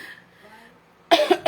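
A short, sharp cough from someone with an allergy, loud and close, coming after a moment of near silence with a faint voice.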